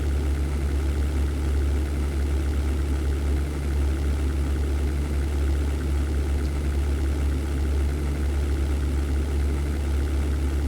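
Fighter plane engines droning in the 1998 flight sim European Air War during a Luftwaffe sortie over London, a steady low mechanical hum holding constant throughout with no talking.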